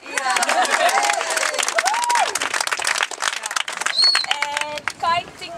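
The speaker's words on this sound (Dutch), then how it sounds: "Toch een applaus." Audience applause at a theater gathering, dense clapping that carries throughout while voices call and talk over it, with a few whoops rising near the end.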